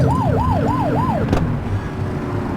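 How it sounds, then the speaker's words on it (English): A police car siren wails in The Precinct video game, a rising and falling yelp repeating four times over a steady engine rumble before cutting off with a brief thump. "Get on their tail and flip the siren."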